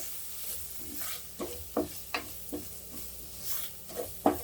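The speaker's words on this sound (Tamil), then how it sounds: "கொஞ்சமாக மஞ்சள் தூள் நல்லா வதக்கிக்கோங்க" Turmeric powder and spices sautéing in a pan under a soft sizzle, with several distinct scraping stirs of a spoon at uneven intervals, close and fairly quiet.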